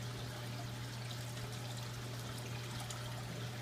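Water trickles from an equalizer pipe with a soft, continuous splashing hiss, faint and steady throughout, under a low constant hum and with no speech.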